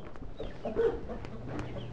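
Chickens clucking at close range while being fed, with a steady flock murmur and a louder burst of clucks in the middle.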